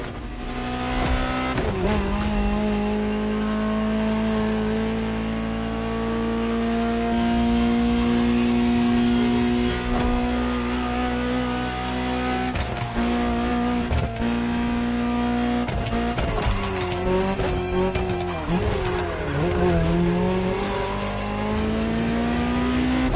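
A Ferrari 288 GTO in The Crew Motorfest racing game revs hard through rising and falling engine pitches, a loud continuous whine with gear shifts and brief dips.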